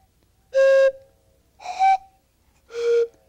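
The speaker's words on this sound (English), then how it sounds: "it makes a sound like a train whistle" A carved wooden whistle blown three times in short bursts, each a bright, breathy chord like a train whistle, clear and close with silence between the blasts.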